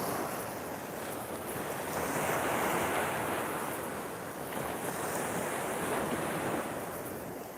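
Waves breaking and washing on Margate Beach, a steady broadband roar of surf with gentle swells in intensity, mixed with wind buffeting the microphone throughout.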